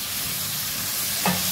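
Potatoes and tomatoes frying in a pan make a steady, close sizzle that runs throughout, with a short brighter burst near the end.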